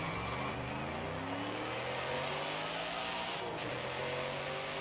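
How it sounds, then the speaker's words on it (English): A car in the racing game Forza Horizon 5 accelerates hard with a sustained, loud engine note, its pitch rising steadily and then dropping at a gear change before climbing again. "Oh, that gear change is so much better."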